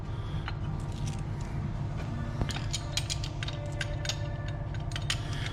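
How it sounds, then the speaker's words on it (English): Tools clinking and ratcheting while a power steering pump bracket is fitted to a Land Rover campervan engine, giving faint metallic ticks and clicks over a low steady hum. "what Damo's doing now is just attaching the power steering pump bracket"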